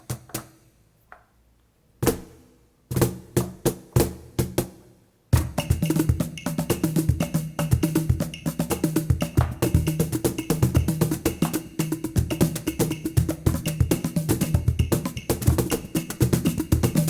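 A sampled percussion ensemble recording: sparse, separate sharp hits at first, then a dense, continuous rhythmic groove of many drums and struck percussion played loud and steady.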